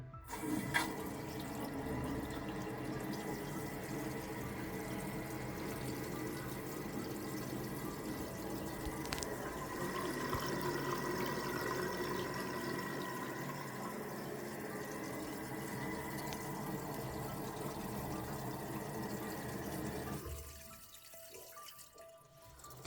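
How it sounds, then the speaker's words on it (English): Water runs steadily from a tap into a sink for about twenty seconds, a constant splashing rush that cuts off near the end, as a leak at a joint under the sink is tested. "I'm about to run some water into there and see if it leaks into my cupboard."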